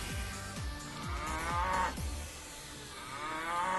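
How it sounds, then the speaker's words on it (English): Cow moo sound effect in Disney Infinity 2.0 repeats as a string of short descending lows in quick succession, followed by longer bellowing moos, loud and close with no talking. "it's going to do the cow moo how many ever times I have set on my counter currently"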